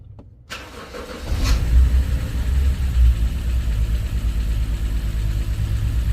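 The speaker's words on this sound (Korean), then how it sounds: "점화 코일을 2번 3번 서로 바꿨습니다 이제 시동 걸고 확인해 볼게요" A car with engine shaking, just after ignition coils two and three were swapped, cranks and catches about a second in, then settles into a loud, steady low idle close by.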